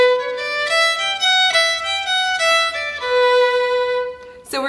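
Solo fiddle plays a melodic variation in the third phrase of the B part of the traditional Irish jig Swallowtail Jig, a steady bowed line of clear sustained notes in lilting rhythm, close and fairly loud, ending on a brief scrape.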